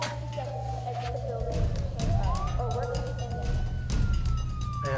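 Police car sirens wail outside, a rising and falling electronic siren running steadily throughout at moderate distance, with a low engine hum and people talking over it.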